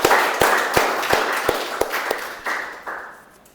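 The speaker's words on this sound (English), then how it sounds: "So I think the GE and tag team deserves much better applause, right?" Meeting audience applauding a team's introduction with a burst of sharp, separate claps from a small group, loud at first and thinning out as the clapping fades over a few seconds.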